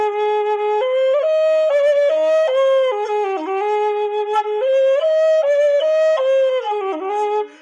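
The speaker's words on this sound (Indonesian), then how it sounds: "mengetuk suling, dalam memainkan suling" A suling bamboo flute plays a barongan gending melody, clear breathy tones stepping between pitches in a lively phrased rhythm, close and solo with no talking.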